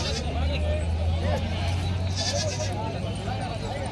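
A native village goat bleats a few times amid a noisy crowd at a goat market in Vasmat, Hingoli, India, with people talking nearby and constant market chatter and engine hum underneath.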